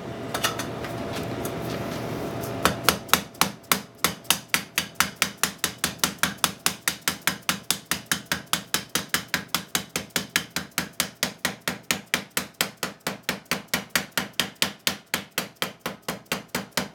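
Rapid, steady hammer blows strike copper moonshine still parts dozens of times in an even rhythm, preceded by a brief stretch of background noise.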